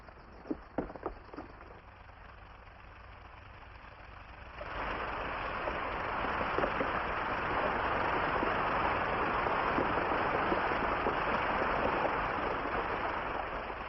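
Water rushes through an irrigation head gate once its top planks are pulled, a few faint knocks giving way to a sudden, steady roaring flow that builds and holds throughout.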